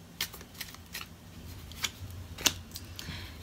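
Tarot cards are shuffled during a reading, producing quiet, crisp riffling snaps in a loose, irregular rhythm up close, with no one speaking.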